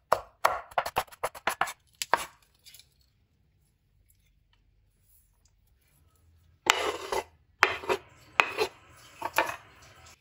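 Onion being chopped into small pieces on a board, a quick run of sharp knife strokes at first, then a pause and a second burst of close, crisp cuts with no talking.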